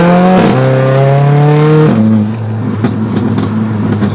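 A Mercedes-AMG engine revs hard and close, pitch climbing through a gear, then a shift and another climb before settling into a lower, rumbling drone.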